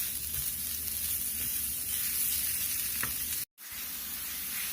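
Coconut and sugar frying in a pan for apple barfi, with a steady close sizzle throughout and a brief cut to silence near the end before the sizzling resumes.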